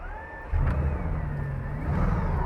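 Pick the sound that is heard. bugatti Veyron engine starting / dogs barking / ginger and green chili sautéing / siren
bugatti Veyron engine starting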